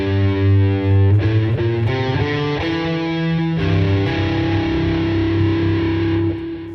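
Distorted electric guitar picks out a melodic run of sixth intervals, paired notes stepping along two strings in a steady rhythm before settling on a sustained chord, played loud and alone.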